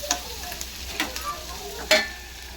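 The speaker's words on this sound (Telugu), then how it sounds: "సిమ్లో పెట్టాను సిమ్లో పెట్టి మగ్గిస్తాను ఇక్కడ" Ulagada (horse gram) curry cooking in a pan on a low flame, a soft steady sizzle and bubbling with a few brief stirring scrapes and clinks, the clearest near the end, with no talking.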